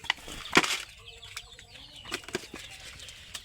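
A female pigeon flaps its wings and flies off from a home pigeon loft, with a burst of loud, close wingbeats that trail into fainter flutters and scattered clucking sounds.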